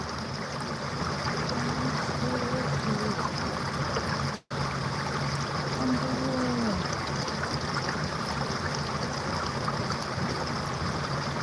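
A river flowing through a snowy landscape, a steady broadband rush of water heard close and continuous, with a brief dropout partway through and no talking.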